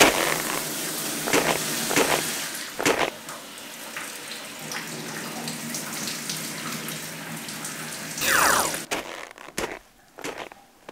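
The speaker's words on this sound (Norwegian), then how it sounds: "Men nå skal jeg faktisk dusje." Shower water runs, splashing steadily and close by, with scattered drips and knocks, then a brief louder gush near the end before it quiets.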